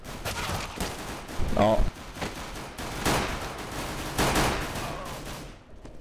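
Bursts of gunfire in Counter-Strike: Global Offensive on the Mirage map rattle in several uneven clusters, with a player's short exclamation among them.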